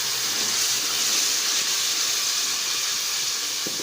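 Water poured into frying masala for aloo baingan hisses and steams loudly in a hot pan, a steady bright sizzle that holds evenly throughout.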